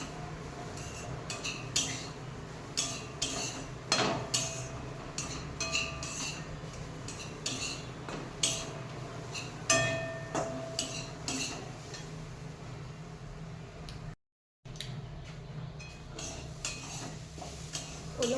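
A spoon scrapes and clinks against a pan while finely grated fresh coconut is sautéed for a sweet modak filling, giving steady close stirring taps and scrapes with no voices.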